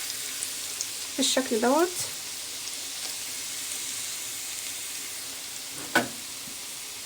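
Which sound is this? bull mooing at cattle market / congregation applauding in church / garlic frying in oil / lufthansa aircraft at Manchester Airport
garlic frying in oil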